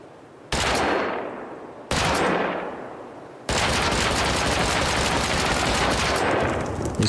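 Explosive bullets fired in the Rust survival game: two sharp blasts with ringing decays, then a sustained rapid burst of loud gunfire that continues to the end.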